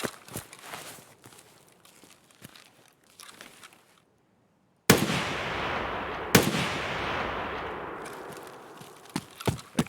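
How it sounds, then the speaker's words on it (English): Loud gunshots in Escape from Tarkov from an unsuppressed gun: scattered faint cracks and footsteps give way to a sudden harsh burst of loud fire, a second sharp shot, then a few closer reports near the end. "That gun is loud."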